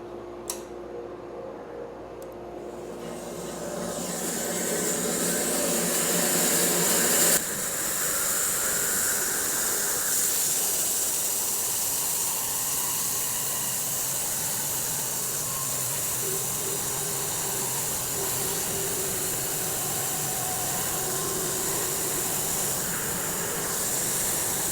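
An electric sawmill opens up a silver maple log, a loud, steady hissing whine of the blade biting into wood that swells after a quiet start and holds constant to the end.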